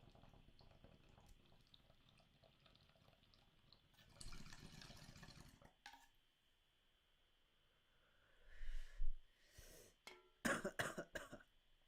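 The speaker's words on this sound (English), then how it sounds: "Gonna do this bong rip and then we're gonna dip." A bong rip with the water bubbling in two bursts, a faint one and then a louder, near one, followed by several harsh coughs and throat clearing at the end.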